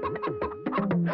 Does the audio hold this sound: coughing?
no